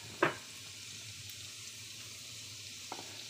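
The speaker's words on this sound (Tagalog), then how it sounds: "So, ilagay na natin ang bawang." Garlic for fried rice goes into a pan, with a sharp clatter at the start, then a soft, faint sizzle and a small tap near the end.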